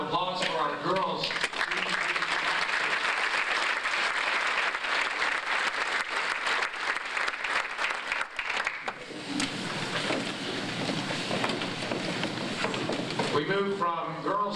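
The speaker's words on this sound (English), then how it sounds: "How about a nice round of applause for our girls?" Sustained applause from a banquet audience for a girls' track team, loud and dense for about nine seconds, then thinning into scattered claps and crowd murmur as it fades, with a voice breaking in at the very end.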